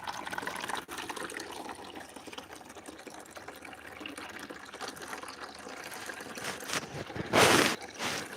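Water is fetched and poured for cows, with a faint trickle and slosh that ends in a brief, louder pour near the finish and no talking.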